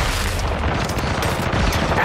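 Dense gunfire and bomb blasts in a Call of Duty match, a steady rumbling wash of rapid shots and booms packed tightly together without pause.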